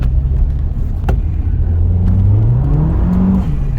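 MG ZS fitted with a turbocharged Rover N-series engine accelerating hard with its tyres losing grip, a loud steady engine drone rising in pitch over a few seconds, close and continuous.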